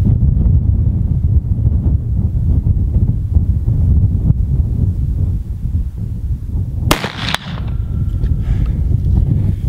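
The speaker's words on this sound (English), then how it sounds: "Now the wind's really blowing and it's causing another problem." Strong wind at an outdoor shooting range buffets the microphone in a loud, continuous low rumble, with a sharp crack-like burst about two-thirds through.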